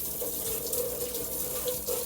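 Water from a tap runs steadily into a sink while kitchen baking pans are rinsed off, a continuous close splashing wash with no speech.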